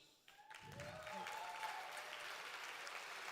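A conference closing-session audience breaks into sustained applause for its committees, the clapping rising quickly and staying dense and steady, with a voice briefly heard at the start.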